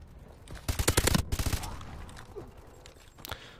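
Silenced BAL-27 rifle firing in Call of Duty: Advanced Warfare: a quick burst of about eight muffled, closely spaced shots, then a quieter tail with faint ambient game noise.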